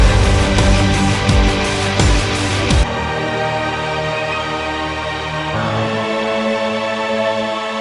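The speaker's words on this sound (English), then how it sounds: "I loved putting the rock and the orchestral elements together" A metal cover blending rock band and orchestral parts plays loud, with driving drums and guitars in the first few seconds before thinning to sustained orchestral layers.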